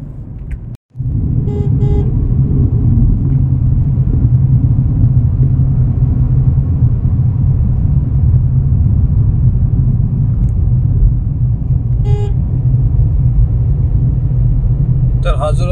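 A car travels along the Buldhana–Malkapur road, a loud steady low road and engine rumble throughout, with a few faint chirps over it.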